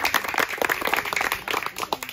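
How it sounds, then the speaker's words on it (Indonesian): A group of children clap for a friend at a gathering in Kwoor district, Papua. The claps are quick, loud and close, crisp individual smacks in an uneven, lively rhythm with faint voices underneath. "Kita tepuk tangan dulu, teman kita."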